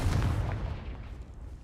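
A Confringo fire spell explodes in the video game Hogwarts Legacy: a loud, dense boom that starts at full force and rumbles on as a decaying low roar with crackling debris, with no talk over it.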